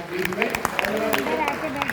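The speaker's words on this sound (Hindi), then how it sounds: "एक बार जोरदार तालियां बजाइए" An audience at a university poetry gathering in Jhansi applauds as the event opens, brisk clapping under a speaking voice.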